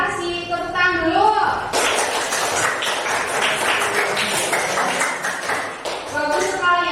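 Classroom applause breaks out after a voice speaks, a burst of many hands clapping that carries on steadily before speech returns near the end.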